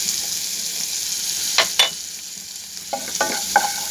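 Masala with ginger and garlic paste, plus a little salt, sizzles in a pan under a constant frying hiss, and a spoon scrapes through it in a few short bursts. No one speaks.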